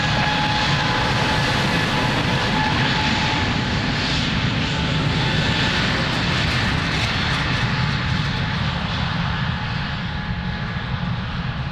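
Airliner taking off at Lisbon Airport, a loud, steady, continuous engine roar that holds constant with no voices.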